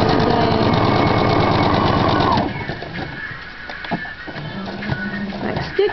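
Sewing machine stitching fabric for a bow, a steady loud mechanical whirr that cuts off partway, followed by quieter handling clatter and light clicks.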